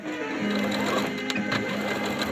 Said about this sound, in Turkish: ben şu şekilde kıvırıp dikiş yapacağım